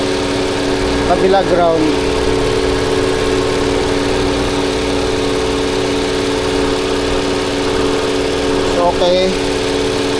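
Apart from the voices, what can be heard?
Toyota Avalon engine idling with cylinder 6 misfire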